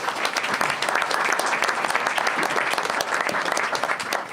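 An audience at a school district board meeting breaks into sustained, loud applause for third grade teachers and students, a thick continuous patter from many hands.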